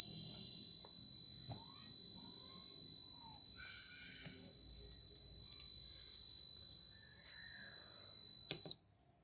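An 8051-based vehicle accident detection system sounds its alarm buzzer, a continuous high electronic tone holding steady close by for several seconds before cutting off abruptly, with faint clicks and room noise beneath.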